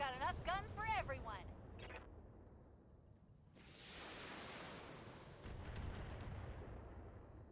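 Artillery and gunfire in the BattleTech game: heavy booming blasts and a rumbling roar that hold for several seconds, with a brief voice and tones at the start.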